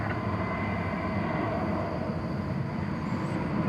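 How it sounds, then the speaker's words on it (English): An American Airlines Boeing 737 MAX 8 roars as a steady, broad jet rumble at a busy airport, holding at a moderate, even level with no talk. "MAX 8 American Airlines plane going to Las Vegas"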